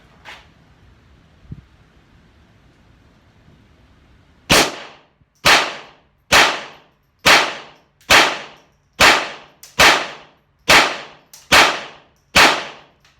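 A Ruger LCP II pistol in .22LR firing 40 grain round-nose rounds, ten sharp cracks in a steady, evenly spaced string after a quiet pause, loud and close with short decays.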